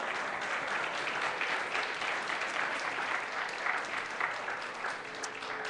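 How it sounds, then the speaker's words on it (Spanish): Congregation applauding during a church service, a dense steady wash of many hands clapping throughout, moderately loud and continuous with no break. "Un fuerte aplauso a nuestro Dios."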